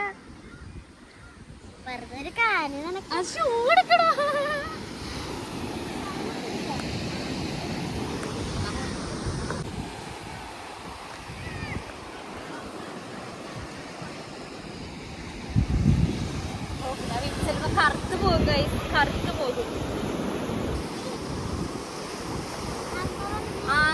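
Sea waves wash onto a beach in steady, rushing surges mixed with strong wind buffeting the microphone, while people talk nearby throughout.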